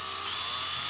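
A power drill runs steadily for under a second, boring holes while mounting the sensor of a Norcold N811 RV refrigerator cooling unit, with a close, continuous high whine and no voices.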